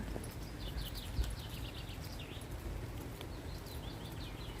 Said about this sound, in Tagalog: Madami yung mga birds. Kaya maririnig mo lang yung mga huni nila.